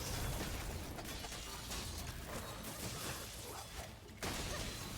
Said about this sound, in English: there's the explosion that causes burn